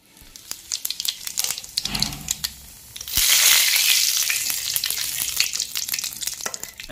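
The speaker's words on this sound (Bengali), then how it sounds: "এখন আমি ফোড়নে দিয়ে দিব জিরা আর শুকনো লঙ্কা" Cumin seeds and dry red chilies dropped into hot mustard oil in a kadai, starting with scattered pops and crackles before a louder, dense sizzle swells up about halfway through and keeps going close by.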